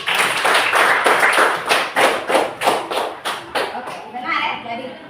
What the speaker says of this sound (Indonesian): Kita berikan aplaus untuk Elvin dulu.